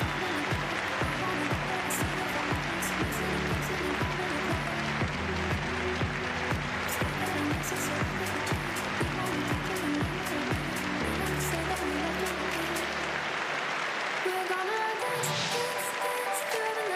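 A crowd at a para taekwondo competition cheers and applauds, a sustained wash of clapping and roaring voices that fills the venue for the whole stretch, with some tonal chanting or music running through it.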